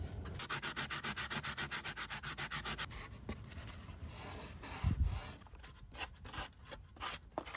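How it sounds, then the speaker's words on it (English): Sandpaper of 120 grit rubs rhythmically along wooden edges of outdoor Christmas decorations, quick close back-and-forth strokes at first, then slower irregular scrubbing with a few soft knocks. "take some 120 sanding paper that I had on hand and just kind of smooth out the edges"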